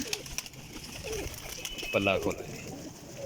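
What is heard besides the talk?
female Lal Pari pigeon cooing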